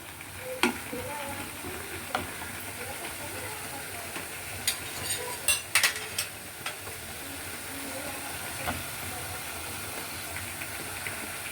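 Food sizzles steadily in a pan while a utensil scrapes and clinks at irregular intervals, moderately close, without any talking.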